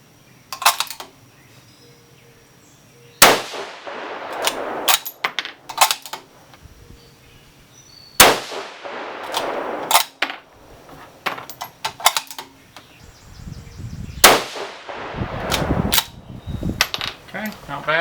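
A 6mm GT rifle fires 103-grain ELD-X hunting loads in three sharp, loud reports spaced several seconds apart, each with a ringing decay, and small clicks and handling noises of the action between shots.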